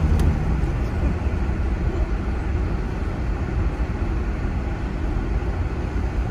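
A truck fitted with snow chains passes on a snowy road in Big Bear, California, making a continuous low rumbling roar that stays fairly even for several seconds.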